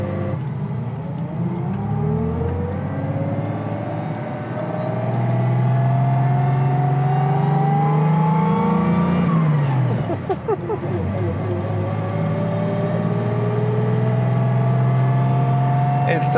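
A 1956 Mercedes 300SL Gullwing's engine drones steadily while driving, its pitch rising through the gears and then settling into a continuous loud hum, with no talk.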